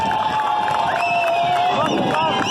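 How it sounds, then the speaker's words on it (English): Crowd at a protest in the Netherlands, a busy hubbub of voices and cheering with some scattered clapping mixed in, loud and continuous throughout. "Let's see why they're clapping."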